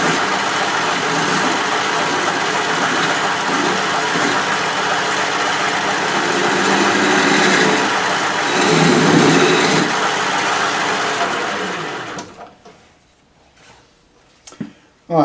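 A lathe runs in a home workshop, a loud, steady mechanical drone for about twelve seconds before it cuts out, leaving a quiet room broken by a few light knocks.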